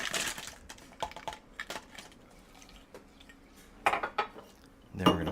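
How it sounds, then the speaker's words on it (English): Fresh ice being added to a cup for boba tea: a few scattered clinks and clatters of cubes striking the cup, close by and quiet, with short pauses between. "And we're going to add some fresh ice."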